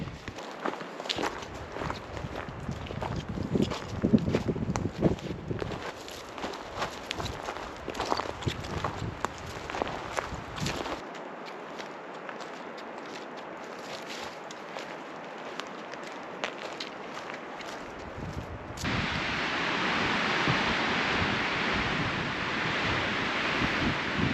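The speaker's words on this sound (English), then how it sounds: "The wind is whipping up here" Wind buffets the microphone on a mountain ridge, a steady rushing roar with gusts that rise and fall, mixed with crunching footsteps early on and a louder, broader wind surge near the end.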